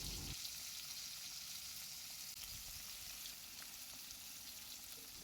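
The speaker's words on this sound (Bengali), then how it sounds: "মাছগুলোকে হালকা করে সাঁতলে নিতে হবে" Hilsa fish pieces fry lightly in oil in a pan, giving a steady, soft, close hiss and sizzle that continues evenly throughout with no voices.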